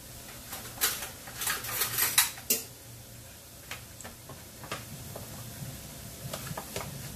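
A utensil stirs flour into browned garlic in a cooking pan, irregular metallic taps and scrapes clustered early and then sparser, close and fairly quiet.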